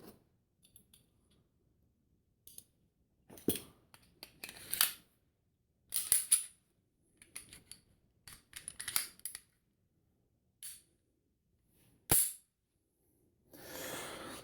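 Metallic clicks, snaps and slides from a Springfield XDs 3.3 pistol being put back together, scattered across quiet pauses, close and crisp with no talking.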